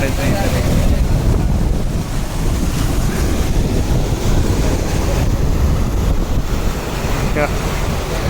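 Rushing water at Hampi, a loud, dense, continuous roar of flowing water mixed with heavy wind buffeting the microphone, unbroken for the whole stretch.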